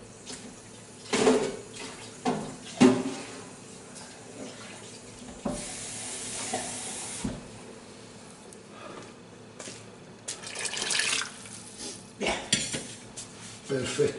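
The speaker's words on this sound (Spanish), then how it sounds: "se echa el agua." Water poured into a metal cooking pot in a home kitchen while preparing a bean and rice stew, with clanking pots and cutlery and a running tap in bursts over roughly fourteen seconds, faint background talk.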